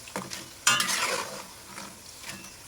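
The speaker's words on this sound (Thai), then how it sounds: "ค่อยๆทอดให้ตัวมันฝรั่งเนี่ย สุกเหลืองก่อนนะคะ" Potato french fries fry in hot oil with a soft continuous sizzle, broken by a louder scrape and clatter of a utensil stirring in the pan, close and with no talk.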